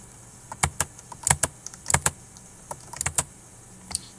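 Computer keyboard keys tapped in short irregular bursts while entering values into a running program, close and fairly quiet with no voices.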